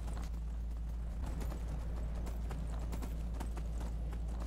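Horse hooves clip-clop in a steady, continuous rhythm in the Skyrim video game, fairly close and loud against constant low background rumble, with no talking.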